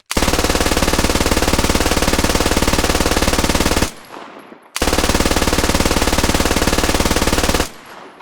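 An MG3 machine gun in the video game Squad fires two long, rapid, loud bursts, each about four seconds, with a short echoing pause between them.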